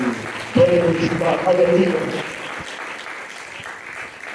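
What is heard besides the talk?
church congregation applauding loudly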